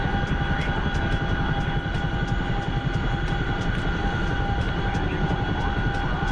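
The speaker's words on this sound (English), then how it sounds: "Do my best to start flying this Chinook a lot smoother." A heavy Chinook twin-rotor helicopter flies while carrying a load in a video game, giving a loud, continuous engine whine and droning hum with a steady rapid rotor chop throughout.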